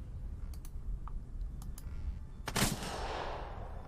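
Machine gun fire in the tactical game Second Front comes as a few faint sharp clicks followed by one brief, loud crackling burst that tails off into a soft hiss.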